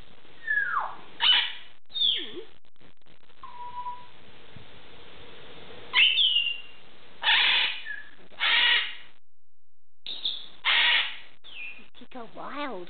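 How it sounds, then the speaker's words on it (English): A pet parrot screeches and calls at wild birds outdoors, with loud squawks, whistles and chattering bursts spaced irregularly and separated by quiet gaps. "Yelling at the birdies?"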